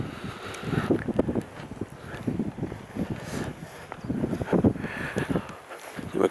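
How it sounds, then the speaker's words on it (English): Gusty wind buffets the microphone at castle earthworks, a broad rushing roar that swells and drops in irregular bursts throughout, loud and close with no pauses. "there is a lot of wind behind me"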